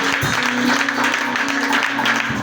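A church congregation applauds in praise during a testimony service, the dense clapping steady and full throughout with a faint tonal hum underneath, then cutting off abruptly at the end.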